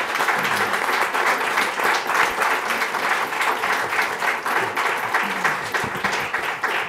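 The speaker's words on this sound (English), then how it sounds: "So we have a round of applause for our panelists." A room full of people at a panel discussion claps steadily for several seconds, a dense, even wash of applause with no voices standing out.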